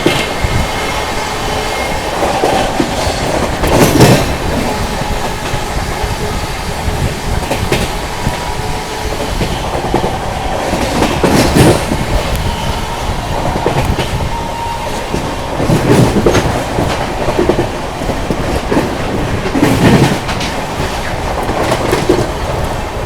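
The Humsafar Express train runs through Etawah Junction, a loud continuous rumble of wheels on rails with rhythmic clickety-clack over joints and occasional sharper metallic bursts, heard close from on board.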